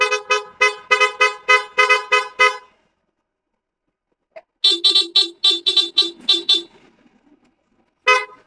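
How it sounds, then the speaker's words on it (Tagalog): A newly installed car horn sounds in two bursts of rapid short honks, about eight quick beeps, then a pause, a second run of beeps, and one last brief toot, loud and close with no talk. "Horn."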